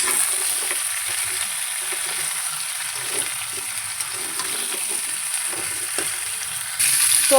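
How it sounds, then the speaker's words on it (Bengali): Bitter gourd curry sizzles steadily in a pan with salt added, a continuous close frying hiss broken by soft scraping stirs throughout, with no talking. "আমি কিছুক্ষণ এইভাবে কষে নেব"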